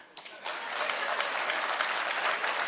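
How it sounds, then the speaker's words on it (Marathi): A crowd at a political rally breaks into sustained applause, dense clapping that starts abruptly and holds steady and loud throughout. "टाळ्या वाजवा ना यार"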